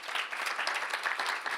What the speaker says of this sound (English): A big round of applause for our panelists here